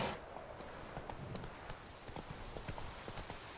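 Roach the horse's hooves in The Witcher 3 video game, a quick steady clip-clop of trotting hoofbeats, close and fairly quiet, repeating evenly throughout with no talk.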